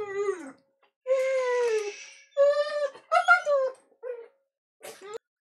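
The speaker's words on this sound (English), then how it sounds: "My dog just started losing her shit for no particular reason" A dog yelps, whimpers and howls in several separate bursts, loud and close, with short silences between the cries.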